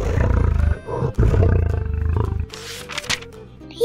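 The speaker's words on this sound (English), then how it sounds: "A lion." A loud lion roar rolls out in one long, rumbling breath, then breaks into a few shorter grunting roars, heard close with no speech.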